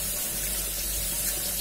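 Cold tap water runs steadily and loudly over a pressure cooker in a kitchen sink, a continuous close gush and splash with no talking.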